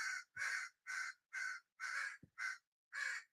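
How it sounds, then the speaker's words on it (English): Crows cawing outside, seven loud harsh caws in an evenly spaced series, each call distinct and clear against an otherwise quiet background. "I don't know if you guys can hear those crows."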